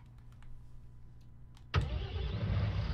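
Tractor diesel engine in Farming Simulator, set up to pull a 30-foot disc: a few quiet clicks, then the engine catches abruptly and settles into a loud, steady running rumble.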